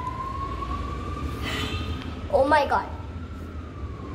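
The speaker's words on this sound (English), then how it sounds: "the police siren" Police siren outdoors in a public place, a faint steady wail drifting in the distance under low traffic rumble, with a brief burst of warbling yelp in the middle while a person exclaims.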